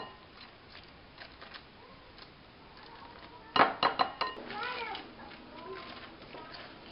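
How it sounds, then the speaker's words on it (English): Cream cheese going into a mixing bowl for a cheesecake: after a quiet stretch, a close burst of several sharp clinks and scrapes of a utensil against the bowl, then softer fading clatter. "first take the cream cheese, put it into a mixing bowl"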